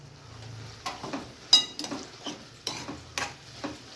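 A spoon stirring coriander into green bean fry in a frying pan, with irregular metallic scrapes and clinks against the pan, fairly close and moderately quiet, with no talk.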